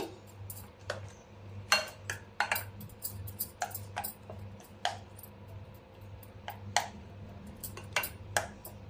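Eggs for a masala omelette mixed with a spoon in a bowl, giving repeated sharp metallic clinks and scrapes in an irregular, close rhythm over a low hum.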